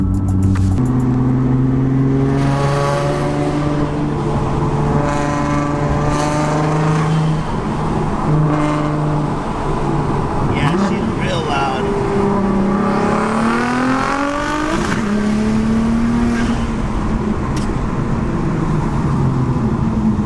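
An Audi S4 accelerates hard on the road, engine pitch climbing steadily then dropping sharply at flat-out shifts made without lifting the throttle, loud and close with continuous drone throughout.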